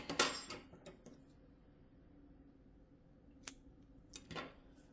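Scissors snip through crochet yarn, one crisp close cut at the start followed by a few faint clicks and light handling noises in a quiet room.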